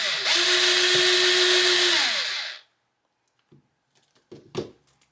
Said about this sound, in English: I'm going to try to drill into the end of this tumbling tower block.